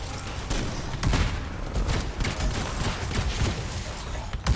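Rapid machine gun fire in a video game, a dense continuous burst of shots crackling for several seconds with occasional louder booms.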